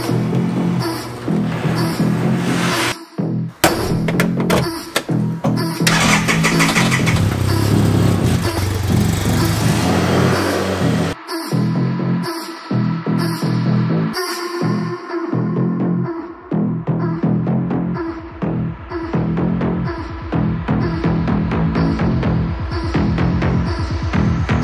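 Arctic Cat Wildcat 700 Sport side-by-side with an upgraded clutch starts and drives on a public road, its engine throbbing and revving in uneven surges, sometimes cutting out briefly, loud and close throughout.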